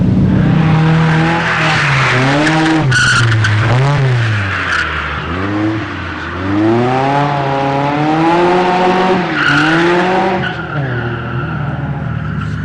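The Fujiwara Tofu car, an Initial D-style machine with a bone-stock 16-valve engine, drifts at a drift event, its engine revving and swooping up and down over sustained, loud tire squeal for several seconds, close and without talk.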